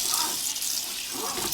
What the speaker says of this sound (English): so we're going to fill up our pot